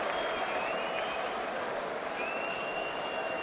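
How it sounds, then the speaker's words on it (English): A boxing arena crowd, after Carl Froch's rematch with Mikkel Kessler, keeps up a steady wash of applause and crowd noise, distant and even, filling the whole stretch with no single clap standing out. "A round of applause for champion versus champion."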